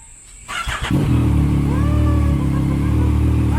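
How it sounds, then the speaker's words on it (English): A 2019 Yamaha MT-09 motorcycle engine cranks briefly and fires up, settling into a loud, steady, close idle that runs on to the end. "Can you start the bike, George?"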